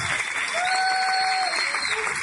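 Church congregation at a Spanish-language sermon applauds in a continuous blur of clapping, with a sustained tone or whistle sounding over it.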